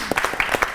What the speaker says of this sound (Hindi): मलकू के लिए भी बहुत सी ताली।